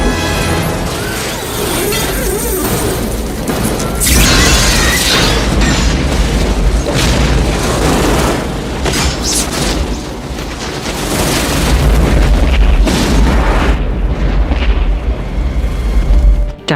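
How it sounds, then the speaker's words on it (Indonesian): A bomb destroys a ship: a loud, sustained roar of explosions with repeated booming bursts and crashing debris, continuous and dense throughout. "membuat bom tersebut meledak menghancurkan kapal tersebut"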